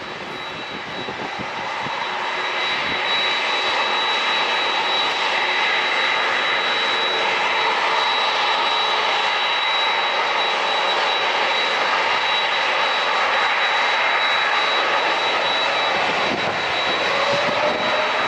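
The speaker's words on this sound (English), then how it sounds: "jets down the runway and lifts off. We got Alaska lining up." An Alaska Airlines jet at San Diego International Airport roars down the runway on takeoff. The engine noise swells over the first couple of seconds into a loud, steady broadband rush with a thin whine, lasting throughout without speech.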